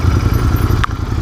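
Royal Enfield 650 twin motorcycle engine, from a 2019 Continental GT or Interceptor, running steadily with a low, even rumble and a brief clatter partway through, close and fairly loud with no talking.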